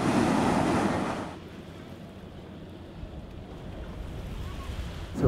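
River water lapping at the waterfront in Cacilhas, across from Lisbon, with a loud burst of wind and surf at the start that settles into a softer, steady wash.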